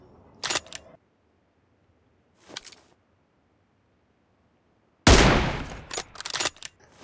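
Gunshots in a PUBG Mobile battle: single sharp shots at the start and middle, separated by silence, then a loud rapid burst of fire to close. No one speaks.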